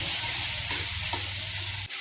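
Masala with tomatoes frying in hot oil and being stirred, a constant bright sizzle with soft scraping stir strokes, up close, stopping abruptly just before the end.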